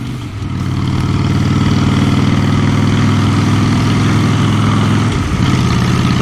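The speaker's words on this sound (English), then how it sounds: "I'm just happy to be out on the motorbike again." A motorbike engine drones steadily at close range while being ridden on a hot, humid day, a continuous low rumble that holds even throughout with a brief dip near the end and no talking.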